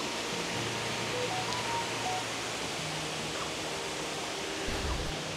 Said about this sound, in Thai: เราก็จะได้ยินเสียงน้ำตกตลอดนะครับ